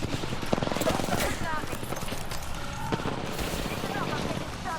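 Rapid gunfire in Apex Legends, bursts of close automatic shots crackling in quick strings over game noise and footsteps, with someone talking over the action throughout.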